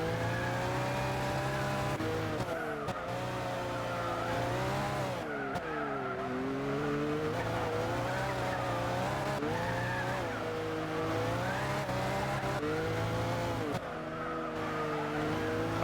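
A race car in Gran Turismo 6 drives continuously with a steady engine drone that rises and falls through gear shifts and revs, loud and close throughout.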